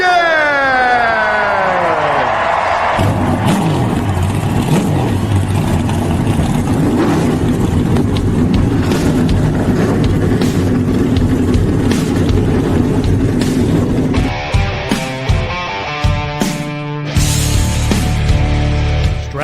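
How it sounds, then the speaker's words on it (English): NASCAR race car engines starting and roaring, a loud sustained mechanical roar with rising revs and pitch sweeps at the start and a choppier, stuttering blast near the end, heard alone without talk. "Driver, start your engine!"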